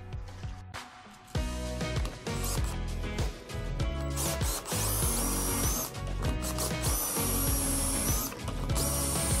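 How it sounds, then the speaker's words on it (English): A power drill bores holes in 2-inch-wide wooden corner pieces for a DIY table, close and loud, its motor whirring in repeated bursts that rise and stop with short gaps between holes, with no talking. "I've got a lot of holes to drill, so I'm going to start doing that"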